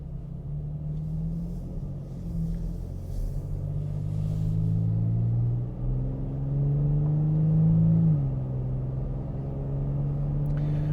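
Toyota Tacoma TRD Pro pickup truck engine driving, a steady low rumble that climbs under acceleration, drops at a shift and settles back to a cruise, close and continuous with no talking.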